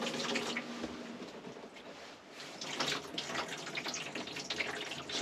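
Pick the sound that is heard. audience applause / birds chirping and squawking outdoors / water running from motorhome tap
water running from motorhome tap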